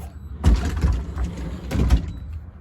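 Camper trailer door sliding or swinging open in hot Texas weather, two rattling, scraping bursts close by with a short pause between, no talking.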